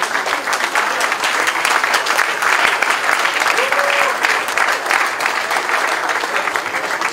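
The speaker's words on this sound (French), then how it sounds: "Il faut applaudir Moïse." A large crowd in Lubumbashi applauds during FIFA president Gianni Infantino's visit, a thick, continuous wash of clapping that stays loud and even throughout, with faint voices mixed into the crowd.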